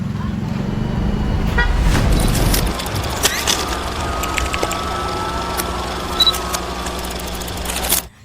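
Jeepneys queued at a terminal in Siquijor idle with a low engine rumble, punctuated by short horn toots and faint background voices.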